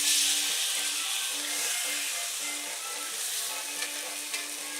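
Liver fries in a pan on the stove, a steady close sizzle and crackle that holds evenly throughout with no talk.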